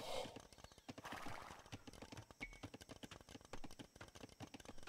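Horses in Age of Empires II neigh and whinny over a rapid, steady clatter of hooves, with game effects in the background; loud and close, with no talk.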